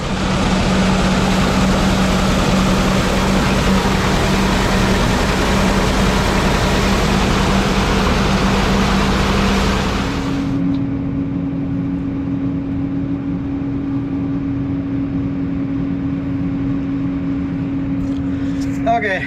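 A hay grinder works through a bale of hay with a loud, dense, continuous roar, which drops abruptly to a steadier, quieter engine hum with a sustained whine about halfway through.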